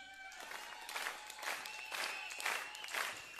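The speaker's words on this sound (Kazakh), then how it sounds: "Нетпайға қол шапалақтар болсын." An audience claps in several rolling bursts, rising and easing every half second or so, moderately distant and fairly faint, with a few voices mixed in.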